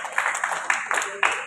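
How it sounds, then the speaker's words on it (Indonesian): A church congregation claps at a Sunday worship service, a brief burst of loud, close applause mixed with voices and cheering. "kasih tepuk tangan buat Tuhan."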